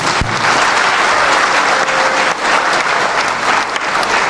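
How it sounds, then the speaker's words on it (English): A hall audience gives a dense, sustained round of applause for Raila Amolo Odinga, loud and steady from start to finish, with no voices rising above the clapping. "Round of applause for Raila Amolo Odinga."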